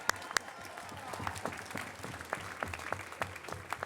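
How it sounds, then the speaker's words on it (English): An audience at a July 4th dramatic reading of the Declaration of Independence at the National Archives claps, a faint scattered patter of hands heard from some distance with individual claps standing out. "Another round of applause."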